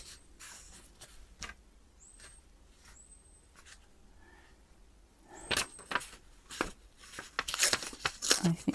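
Paper ephemera torn by hand for a collage, with scattered crinkles and handling rustles followed by a louder ripping burst and more crackly tearing near the end, close and without talk.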